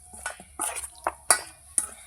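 Chicken being stirred and mixed with spices to marinate, giving a run of short wet squelches and scrapes in an uneven rhythm, close and moderately loud, with no talking.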